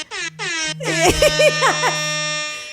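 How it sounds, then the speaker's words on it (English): At a hockey goal celebration, an air horn sounds two short blasts and then one long, loud, sustained blare, with excited voices rising beneath the middle of the long tone. "I guess it's an air horn"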